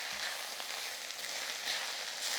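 Brinjal curry frying gently on low heat gives off a soft, continuous sizzle that stays faint and even, with no voices.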